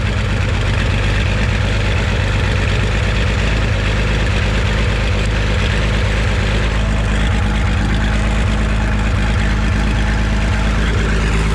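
An Oliver tractor engine idles while powering a grain dryer, a loud, steady low rumble with a constant throbbing rhythm and heavy low end, continuous throughout with no talk.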